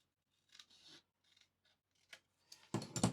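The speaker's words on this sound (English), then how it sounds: "So I'm just going to cut this off." Scissors snip a paper tab off a craft piece, a few quiet separate cuts followed by a louder, close final crunch of blades through paper.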